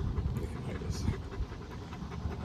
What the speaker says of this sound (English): So guys, I got a new dog.